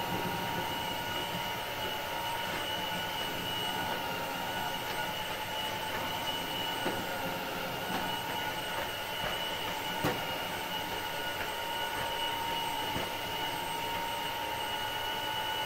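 An Ultenic AC1 Elite vacuum runs in water suction mode with a constant, even motor drone and a steady tonal whine, plus occasional faint clicks. No one speaks.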